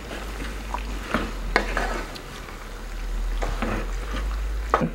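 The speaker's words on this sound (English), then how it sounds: "Stir that baby up." Fettuccine Alfredo sauce stirred in a pan, with a soft steady sizzle and repeated scraping, clinking strokes of a utensil against the cookware, close up with no talking.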